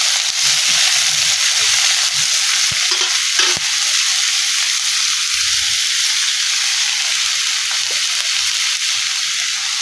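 Carrots, eggplant and potatoes frying with fried onion in oil: a loud, dense, even hiss of hot oil fills the whole stretch, with a few brief scrapes and knocks of stirring early on, close up and without talking.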